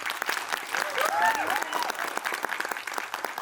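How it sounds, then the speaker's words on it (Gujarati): An audience breaks into a burst of hearty clapping at a Gujarati film event, loud and continuous, with a voice speaking over the applause. "પહેલા તો બધા બરકતભાઈ માટે એક જોરદાર તાળી વગાડો"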